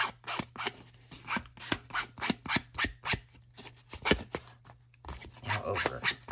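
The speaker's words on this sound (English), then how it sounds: "What we'll do, is just rub it on there and see what happens." Yellow coloring material is rubbed onto kooky paper in quick rhythmic scratchy strokes, close and fairly faint, with a brief pause before the strokes resume.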